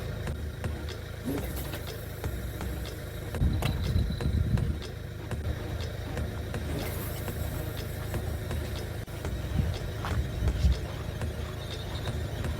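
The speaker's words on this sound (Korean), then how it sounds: "차 옆에 시끄러웠죠? 시동을 걸고 있어가지고." Car engine idling near a fishing spot in Wando, a low steady rumble close by with occasional louder thumps and knocks, no talk.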